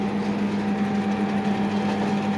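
A Xerox 5765 copier runs a copy job, giving a steady mechanical hum with a fixed electrical tone and a constant whirring drone from close by.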